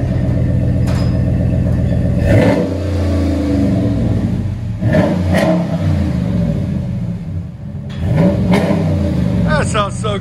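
A RAM 1500 pickup with a 5.7L Hemi V8 and cut-down dual 40 series exhaust revs hard in several loud, close bursts, deep rumbling between blips, with people talking over it.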